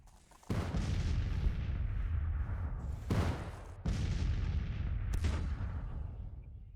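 An artillery battery fires in a Civil War video game: four deep, booming cannon blasts, each followed by a long rolling rumble, come at uneven intervals and fairly close, with no voices.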